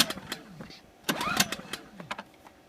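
A Generac iX2000 generator engine is cranked on half choke, with several short pull-start bursts followed by a sputtering catch as it fires, all close and fairly loud.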